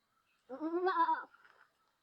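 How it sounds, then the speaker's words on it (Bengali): A white Baghatota goat kid on a farm gives a single clear bleat of under a second, close and fairly quiet, followed by a softer trailing bit. "প্রিয় দর্শক আমরা এর মধ্যে দেখতে পাচ্ছি সাদা কালার একটি ছাগল"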